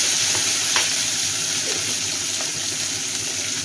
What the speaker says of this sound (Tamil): வெங்காயம் நல்லா கொஞ்சம் வதங்கட்டும்.